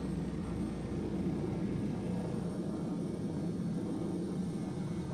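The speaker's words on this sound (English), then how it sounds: "Gear down. Flaps coming down." A military jet in the FSX flight simulator on a carrier approach lowers its landing gear and flaps. A steady, loud engine roar fills the whole stretch with no distinct clunks standing out.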